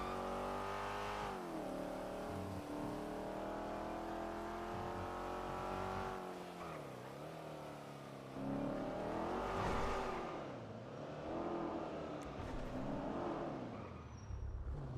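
A car engine drones steadily in a video game. Its pitch rises and falls as it shifts and accelerates, and the engine stays loud and close throughout with no talk.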